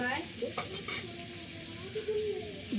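Sliced bitter gourd (karela) fries in a pan at home, with a steady low sizzle, a few stirring scrapes, and faint clinks of utensils. No one speaks.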